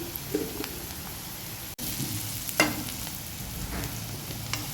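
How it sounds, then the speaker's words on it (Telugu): Peanuts frying in a pan for bongula upma, a steady close sizzle with occasional stirring scrapes and small crackles, no talking. "పల్లీలు బ్రౌన్ అయ్యే వరకు బాగా వేయించుకోండి"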